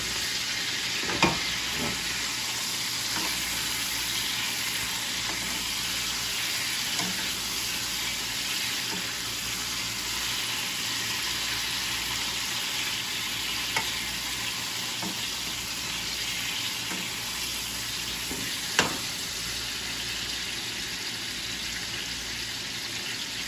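Flank steak and garlic scapes basting in hot oil in a pan, a steady close sizzle and crackle throughout, with a few sharp spits and clinks rising above it and no talk.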